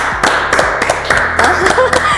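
Scattered, sudden clapping rings out for a painter after her talk, a handful of sharp, close hand claps in uneven rhythm with a few low voiced sounds underneath.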